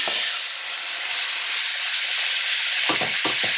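Marinated chicken with yoghurt and spices fries over high flame in a pan for chicken wraps, hissing loudly and steadily up close, with a few stirring knocks near the end.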